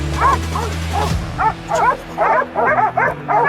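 A hunting dog barks in repeated yipping bursts at a wild boar hidden in a cornfield's underbrush, the volleys coming in quick clusters over a steady low hum.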